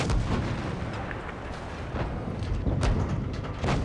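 Repeated tank cannon blasts in World of Tanks Blitz, an American-versus-Russian tank battle with a T-57 heavy firing, come as loud booming reports over constant rumbling battle noise, with sharp bursts near the start, middle and end.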